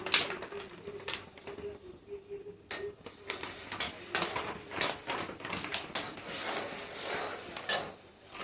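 Milk powder is stirred into milk in a pan. A utensil scrapes and clinks against the metal in a steady, busy rhythm, close up and moderately loud, with no one talking.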